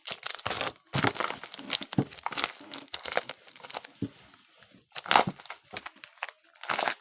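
Plastic bag crinkles and rustles in repeated bursts as it is squashed and pushed down into a box, close by, with brief quiet gaps between.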